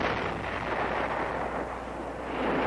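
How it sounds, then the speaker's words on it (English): Artillery fire at the Battle of Khe Sanh in 1968, a dense, rumbling roar of distant guns on an archival soundtrack, steady and fairly faint, with no talk. "artillery, and the B-52s start their aerial bombardment"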